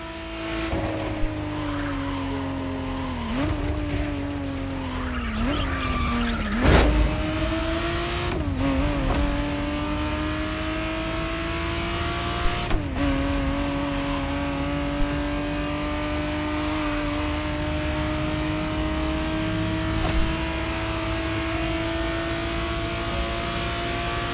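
A 1991 Ferrari Testarossa drives in The Crew Motorfest, its steady engine drone rising and dipping through gear changes, with occasional tire squeal and thumps over a long continuous run.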